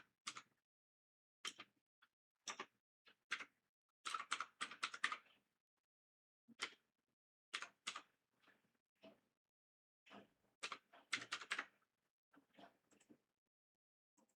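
Quiet bursts of keystrokes on a computer keyboard, irregular clusters of soft clicks separated by short pauses, close and alone with no talking.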